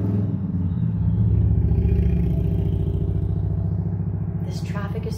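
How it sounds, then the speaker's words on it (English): Loud street traffic with a motor-vehicle engine rumbling and passing close by, a steady heavy drone that fills the scene with a rising whoosh near the end. "traffic is so loud."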